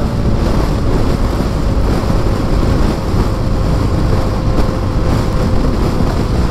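Strong sandstorm wind roars continuously around a motorcycle rider crossing the desert in Algeria, a loud, steady blustery rush buffeting close to the microphone, with no voices.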